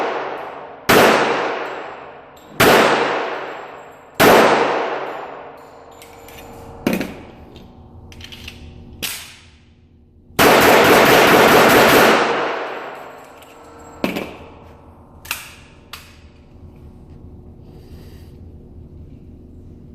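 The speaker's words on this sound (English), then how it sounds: "I'm trying to test out these reloads and make sure these things shoot accurate." Gunshots test-firing reloaded ammunition at a range, several loud sharp reports with ringing decay spaced a second or two apart, then a long harsh burst and a few scattered lighter clacks.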